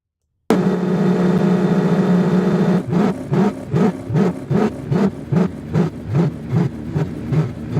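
A car engine synthesized with Krotos Igniter holds a steady buzzing idle, then pulses in a regular rhythm of rising and falling revs, alone and close.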